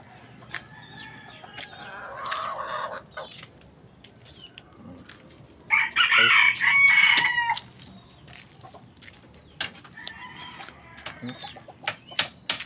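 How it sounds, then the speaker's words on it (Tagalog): A Boston Sweet Dreaming Fighter gamecock crows loudly nearby amid scattered clucks, rustling and brief flapping sounds, with other birds calling intermittently. "Gandang manok guys"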